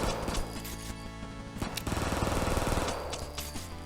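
Pistol gunfire in the retro-styled game GUNGUNGUN, quick repeated shots in close succession over busy game sounds, loud and near, lasting a few seconds.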